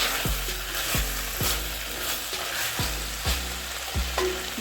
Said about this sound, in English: We're going to cook our onions for 5 minutes until they are soft.